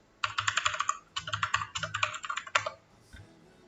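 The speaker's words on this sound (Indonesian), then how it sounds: "Biar nggak salah ketik lagi, saya ketik di sini dulu, saya search." Rapid bursts of keystrokes on a computer keyboard while entering a WordPress theme function name, clicking in quick irregular runs with short pauses, close and clear with no talking.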